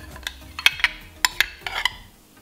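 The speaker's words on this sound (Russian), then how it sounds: "И снова перемешиваем до однородности." A spoon clinks against a bowl while cake batter made with sour cream and sunflower oil is stirred smooth, giving a series of sharp, irregular taps and scrapes, close and alone.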